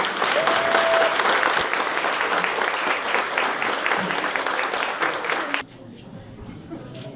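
Dense, sustained applause from a wedding crowd during the signing of the marriage register, loud and steady for about five and a half seconds before cutting off sharply, leaving faint room murmur.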